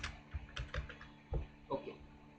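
Code being typed on a computer keyboard, several soft clustered keystrokes in an uneven rhythm, close and fairly quiet, with no talking.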